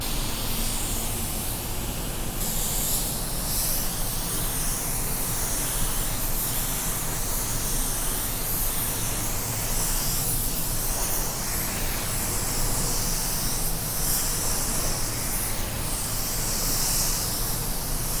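Steady, loud hiss of a spray gun laying down paint on a car door panel, continuous and unbroken for the whole stretch with no pauses.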